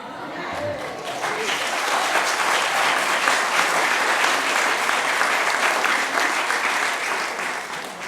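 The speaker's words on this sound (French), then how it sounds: "J'ai jamais été applaudi de même par les gens d'ici" A church audience breaks into sustained applause that swells quickly, holds steady and dense for several seconds, then begins to taper off, with no talking over it.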